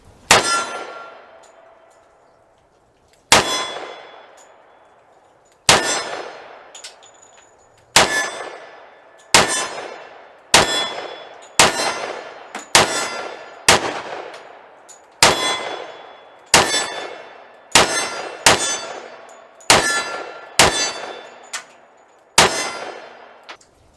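Federal Fusion 200 grain 10mm soft points from an M&P 2.0 pistol striking a steel plate, a string of about fifteen sharp ringing clangs that each decay, spaced unevenly and quickening toward the end.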